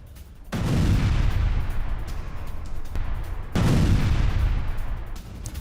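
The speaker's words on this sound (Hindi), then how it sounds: "धुएं का गुबार देखिए, इस धमाके की इंटेंसिटी देखिए।" Two heavy blasts from a Russian strike on a Ukrainian brigade position, each a sudden loud boom followed by a long rolling, crackling decay, the second arriving about three seconds after the first, heard from a distance.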